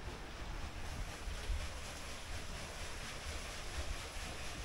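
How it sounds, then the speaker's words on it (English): A stream of water flows outdoors at Hopewell Furnace, giving a steady, rushing broadband wash that holds at an even level throughout, with no voices over it. "there's a stream flowing down here."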